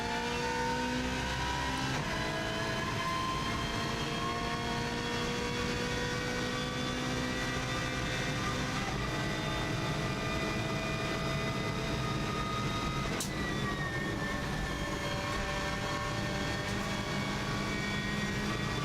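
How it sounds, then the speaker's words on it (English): Onboard a race car on a record Isle of Man TT lap driven by Mark Higgins, the engine roars loud and continuous, its pitch climbing steadily through the gears as it accelerates hard, with wind and road noise beneath. "You can see how much quicker this car accelerates from the 120 right the way through to 170."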